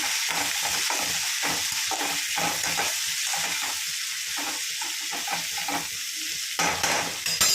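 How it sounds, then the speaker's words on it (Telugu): Onion and green chillies fry with dried prawns in a pan while being stirred, giving a steady loud sizzle broken by repeated scraping strokes and a brief clatter near the end. "దీనిలోకి ఆనియన్ పచ్చిమిర్చి వేసుకున్నాం వేసుకొని ఒకసారి కలిపేసుకొని"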